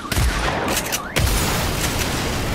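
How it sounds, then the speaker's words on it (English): Gunfire and explosions in the Agents of Mayhem video game on PC: a dense, loud fusillade of shots with booming blasts, briefly dropping near the midpoint before surging back at full intensity. "Explosions."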